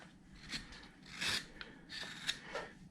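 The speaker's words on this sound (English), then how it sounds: "I like to get in here with a gouge and really whack away at it" A sharp carving gouge cuts across the grain of a wooden Santa figure carved from a bandsaw blank, making several short, quiet scraping and rasping strokes in quick succession.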